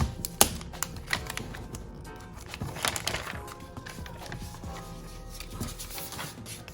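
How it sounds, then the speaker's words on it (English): Protective plastic crinkles and peels off an iPad Magic Keyboard, a close series of light taps, ticks and soft rustles at low volume with no talking. "Let me peel this plastic off."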